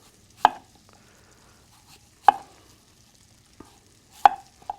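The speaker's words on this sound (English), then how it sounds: "the best way to do these apples is to cut straight down, turn it over, cut straight down" A knife cuts an apple on a cutting board, three sharp, distinct chops spaced about two seconds apart with a fainter tap between, close and clear with no talking.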